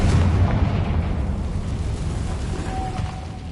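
A fiery Confringo spell blast in the Hogwarts Legacy game, a loud deep boom that hits at once and rolls off into a rumbling burst that fades over a few seconds.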